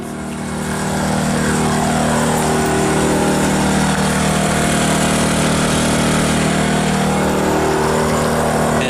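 A Harbor Freight Predator 2000 inverter generator runs at a steady, fairly quiet hum, starting softly and settling into a constant engine drone with no talking.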